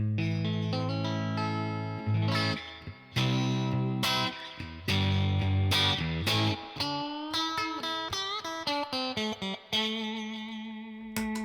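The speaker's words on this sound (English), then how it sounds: "The tremolo is excellent." Clean electric guitar played through a UAD Dream '65 amp pedal with tremolo engaged, a series of pulsing chords and single notes with rhythmic volume wobble, close and alone with no voices.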